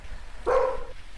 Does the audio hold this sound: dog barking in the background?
yes